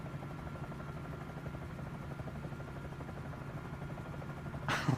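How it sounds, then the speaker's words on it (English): A helicopter flying along a highway in Microsoft Flight Simulator 2024 on PS5 Pro, a steady, fairly quiet rotor drone with rhythmic blade chop that holds evenly throughout, with a brief louder burst at the very end. "They didn't think about helicopters flying along the highway here."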